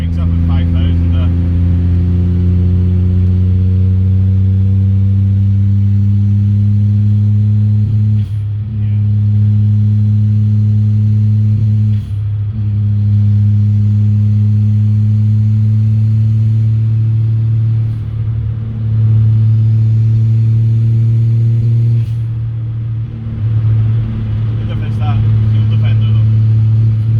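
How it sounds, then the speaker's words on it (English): A car engine revs steadily and repeatedly cuts out above 5,000 rpm, the loud drone stuttering and dipping several times over roughly half a minute, recorded close up. "over 5k revs, it was just cutting and cutting and cutting and cutting"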